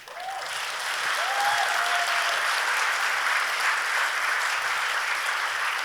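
Sustained audience applause at a political event with a US congresswoman, a dense steady wash of clapping that swells within the first second and holds loud throughout, with a brief cheer or whoop near the start.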